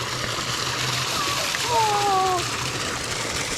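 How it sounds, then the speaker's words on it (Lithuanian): Cold water runs steadily into a swimming pool, a continuous close rush and splash with faint thin tones drifting over it. "Oho, šaltas vanduo čia bėga."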